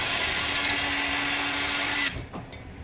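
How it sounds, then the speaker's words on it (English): A handheld blow dryer blasts a steady, loud whoosh of air over a drying acrylic painting, running continuously before switching off near the end and leaving a fading quiet. "So I'm going to take a moment and hit mine with the blow dryer."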